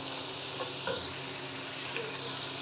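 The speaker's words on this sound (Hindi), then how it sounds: "और 2 मिनट के लिए हम मटर को फ्राई कर लेंगे।" Carrots and peas frying over high heat in a pan for vegetable fried rice, a steady crackling sizzle with light stirring scrapes and clinks.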